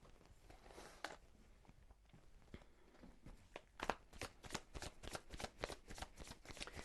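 A deck of tarot cards is shuffled close up, first in soft scattered riffles, then a quick run of sharp, evenly spaced card slaps building toward the end, quiet and without talk.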